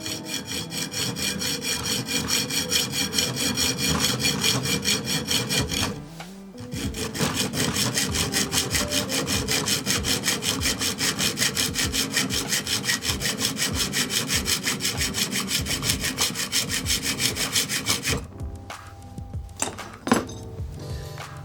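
A hand saw rasps through wood in fast, steady back-and-forth strokes, loud and close, with a short pause near the start and a few clinks and knocks toward the end.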